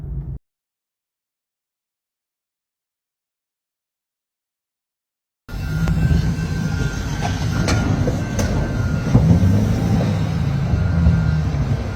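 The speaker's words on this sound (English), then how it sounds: "The train is coming!" A train rolls toward a railroad crossing where a heavy haul lowboy truck is stuck. After a brief silence, a loud, steady low rumble of rail cars sets in and holds close, with faint metallic clicks over it.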